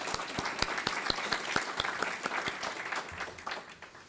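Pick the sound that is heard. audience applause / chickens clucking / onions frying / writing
audience applause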